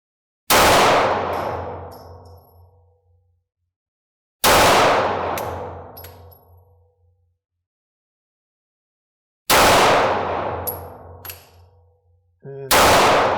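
Four loud 9mm handgun shots at a shooting range, each a sharp crack with a long ringing decay, spaced a few seconds apart, with a faint metallic clang after some shots.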